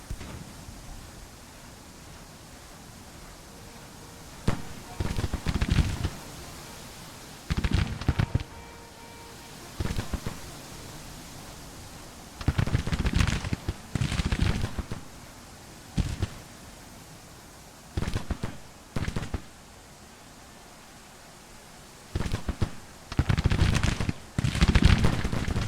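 Artillery shells burst in a Grand Tactician: The Civil War battle, several separate booming explosions arriving in clusters across a steady noisy background, some loud and close, others duller and farther off.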